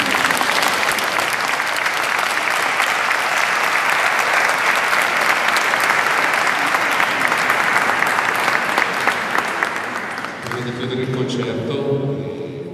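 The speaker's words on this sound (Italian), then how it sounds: "un grande applauso ai nostri amici" Sustained applause from a concert audience at San Marco in Vertova, dense and steady for about ten seconds before thinning out as a voice begins speaking near the end.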